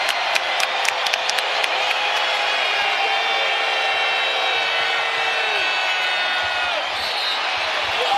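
Basketball arena crowd at a Boston Celtics versus OKC Thunder game roaring in a loud, sustained wall of cheering, with a few sharp claps and sneaker squeaks near the start and commentary running underneath.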